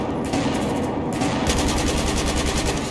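Automatic gunfire in Battlefield 4 rattles in rapid bursts, loud and close, with a heavier, denser volley breaking in halfway through and continuing to the end.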